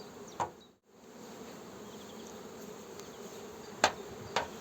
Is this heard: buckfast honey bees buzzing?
yes